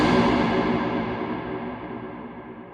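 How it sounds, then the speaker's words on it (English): Epic cello string sound, one sustained rich bowed tone with echo-like effects that slowly decays alone for a few seconds before a sudden loud burst at the very end. "go buy yourself a cello, and then you can make some epic string sounds like this."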